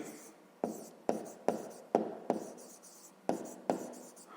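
Handwriting on paper while working a fifth-grade math exercise: close, faint scratching strokes with sharp taps as the pen lands, about eight strokes in an uneven rhythm and no talking.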